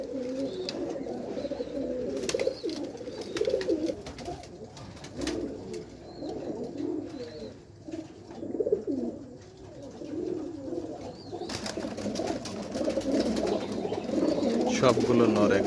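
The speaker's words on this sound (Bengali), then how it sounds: "আলিওলের সাথে নেপালি ইম্পোর্ট করা কবুতর" Imported Nepali pigeons coo in repeated low, throaty, rolling calls from nearby, several birds overlapping, with scattered wing or cage rustles and brief higher noise toward the end.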